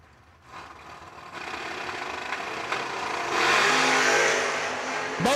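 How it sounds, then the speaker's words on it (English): A Camaro and a Malibu accelerate off the line in a drag race, engine roar building steadily and growing louder over a few seconds, heard from a distance. "Wow, what a drag race."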